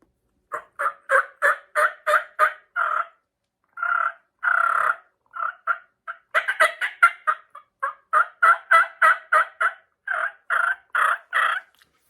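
Repeated turkey yelps from a homemade diaphragm call, loud and close, in quick runs broken by short pauses and a few longer drawn-out notes.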